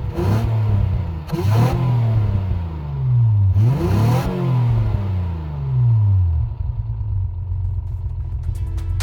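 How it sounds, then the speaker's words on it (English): A car engine revs repeatedly, rising and falling in several loud pulls before dropping back to a rough idle. "give it a few revs as well"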